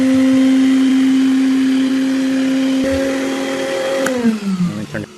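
Vacmaster VBV1210 12-gallon wet/dry shop vacuum with a brush head on the wand, running at a loud, steady whine with a strong motor drone, then its pitch dropping as it winds down near the end.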